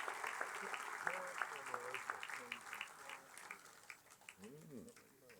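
Applause at a county sports hall of fame ceremony: scattered clapping from a modest crowd that gradually thins out, with voices talking over it.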